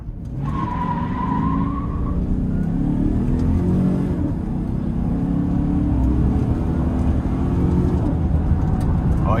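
A 2015 Chevy Silverado 1500 LT crew cab with a 5.3 V8 is floored from a standstill. Its engine roars in a long, loud, rising pull, and a brief tire squeal cuts in near the start.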